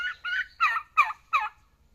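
A young turkey gobbles in a rapid burst of five rattling calls, close and fairly loud, with silence after.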